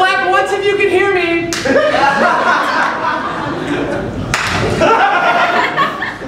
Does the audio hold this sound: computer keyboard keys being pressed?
no